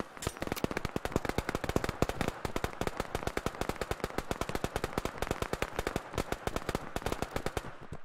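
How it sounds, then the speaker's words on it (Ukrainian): Rapid bursts of automatic gunfire crackle almost nonstop, dense sharp shots in quick succession, loud and close with only brief pauses, in the video game Operation: Harsh Doorstop. "Хтось стріляє."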